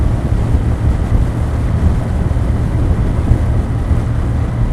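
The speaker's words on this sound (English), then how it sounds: "I want you to hear the original exhaust sound, but also hear some of the sounds of nature." Kawasaki W800 motorcycle on the move, its exhaust a steady low rumble beneath heavy, continuous wind buffeting across the microphone, loud and unbroken throughout.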